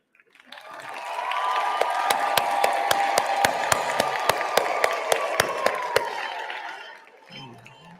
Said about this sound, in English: So if you can just stand up and clap